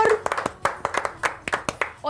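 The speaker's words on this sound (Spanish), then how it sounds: "aplausos, por favor." Scattered hand claps from a small studio group at the opening of a local morning television show, a dozen or so distinct, unsynchronized claps over about two seconds rather than a full wash of applause.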